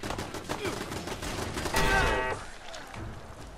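Rapid turret gunfire in Fallout 4 crackles as a dense fusillade of shots, swelling into a louder burst near the middle before thinning out, with game ambience underneath.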